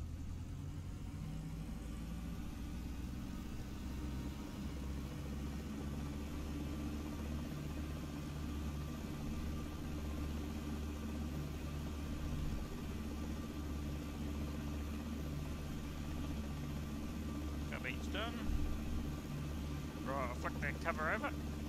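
A Robinson R22 helicopter in X-Plane 12 hums low and steady as its rotor spins up, a continuous engine drone with someone talking over it.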